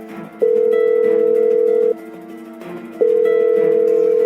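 A telephone tone plays as a steady held tone in two long bursts separated by a short gap, loud and clear with no talking.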